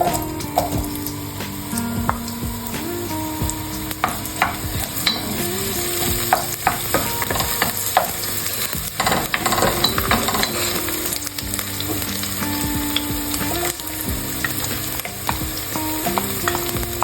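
Tenderized oxtail and tripe sautéing for kare-kare, a loud, steady sizzle and hiss with frequent clinks and scrapes of a utensil stirring the pan, close up and continuous, with no one talking.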